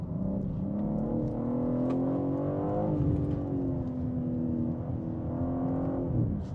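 A tuned BMW M3 Competition xDrive, a heavy 1.9-tonne car, drives with a steady loud engine drone that rises and falls slightly, its tone shifting with speed throughout, with no talk over it.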